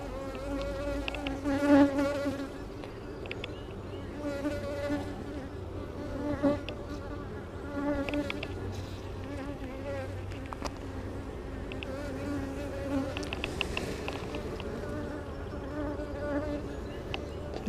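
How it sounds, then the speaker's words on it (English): Honey bees buzzing during a hive inspection while frames of drone comb and capped brood are checked, a dense continuous hum with a persistent guard bee droning close by, loud and steady throughout. "This guard bee is being pretty persistent."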